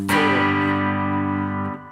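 A single guitar chord is strummed and left ringing for under two seconds, with a slightly distorted, effects-coloured tone, from a song's strumming pattern, with no talking.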